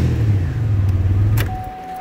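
A 2005 Chevrolet Impala with a 3.4L engine idles steadily up close, a low even rumble, with a brief click and a thin steady tone creeping in near the end.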